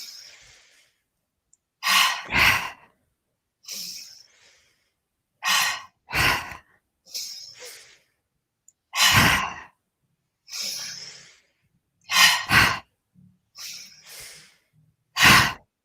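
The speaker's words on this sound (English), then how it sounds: "So we're going to inhale, exhale." Deep yoga breaths drawn in and pushed out, about ten slow inhales and exhales in a steady rhythm, close and clear with quiet pauses between them and no talking.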